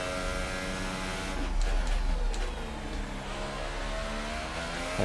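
A Williams Formula 1 car in the F1 2018 racing game held at full throttle, a loud sustained high-pitched engine whine with shifting harmonic tones and a brief surge, continuous and close with no talk.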